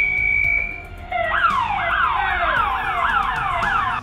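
A neighborhood alarm wails during a street robbery, a steady tone giving way to a rapidly repeating rising-falling electronic siren, loud and continuous over low street noise.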